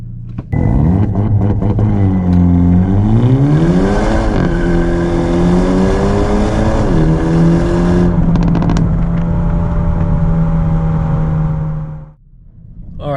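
Hyundai Elantra N with a DCT gearbox launching hard with launch control, a loud close engine roar climbing in pitch through quick gear changes, then holding a steady drone before cutting off sharply.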